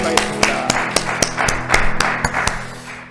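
A church congregation clapping during a service, about a dozen sharp, loud claps in a regular rhythm that blur into a denser patch of applause before fading.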